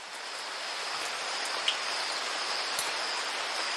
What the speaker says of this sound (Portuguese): Chuva fina cai, regando as plantas, lavando o ar poluído e molhando as pessoas a caminho do trabalho